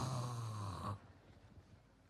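A voice imitates a snore, giving one loud, rasping, nasal snort that ends abruptly and leaves quiet behind it.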